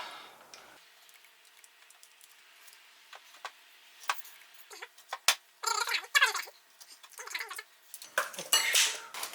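Metallic clicks, scrapes and short rasping strokes of an air conditioner pipe being cut during installation of a Samsung inverter air conditioner come in uneven bursts, growing louder and busier toward the end.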